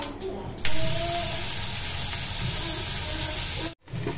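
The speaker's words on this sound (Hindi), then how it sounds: "मैंने छौंक लगा दिया है।" Spices tempering in hot mustard oil give a steady, loud sizzle. It starts abruptly, then crackles and hisses continuously for about three seconds before cutting out briefly.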